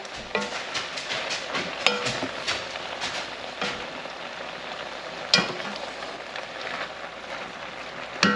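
Sausage frying in a pan gives a soft, steady sizzle, broken by sharp clicks and knocks from handling the pan, including a louder clatter near the middle and another at the end.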